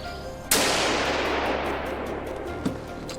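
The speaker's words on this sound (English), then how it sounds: "Gunshots cracked through the forest." A single loud gunshot cracks through a forest during a wild boar hunt, its sharp report followed by a long rolling echo that decays slowly, with a fainter metallic click near the end.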